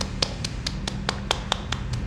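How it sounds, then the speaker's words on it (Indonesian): Hand tapping against the chin and face: a steady series of about nine light, crisp taps in quick, even rhythm, close and fairly quiet. "Lakukan tepukan seperti ini sampai bersuara."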